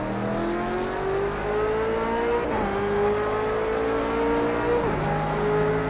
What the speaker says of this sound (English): the sound of the V8 supercar is just as sick as it was in the last game